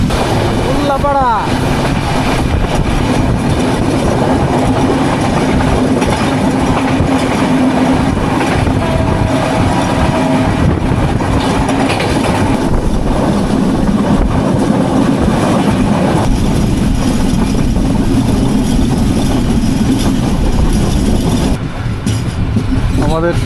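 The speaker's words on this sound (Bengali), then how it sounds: "আমাদের ট্রেন বেশিরভাগ সময় 80 কিলোমিটারের উপরে গতিসীমা নিয়ে কিন্তু চলাচল করে আসছে" Banolata Express train rolls at speed above 80 km/h, a loud, continuous rumble and roar with rattling carriages and occasional clickety-clack, heard from on board with steady intensity throughout.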